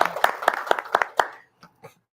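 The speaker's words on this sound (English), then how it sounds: "let's give him a round of applause as well" A small group applauding at a business incubator meeting, a string of crisp, distinct claps over the first second and a half, then a couple of isolated stray claps before quiet.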